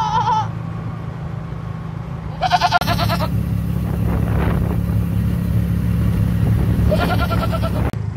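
A Qurbani goat bleats in three separate loud, nasal calls, one at the start, one in the middle, one near the end, over a steady low engine rumble from nearby traffic.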